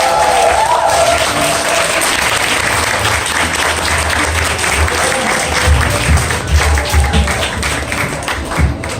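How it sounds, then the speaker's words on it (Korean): An audience applauds to welcome a speaker at a USANA company and business presentation: dense, steady clapping from a crowd that holds at full strength for about nine seconds. "큰 박수로 맞이해 주시기 바랍니다."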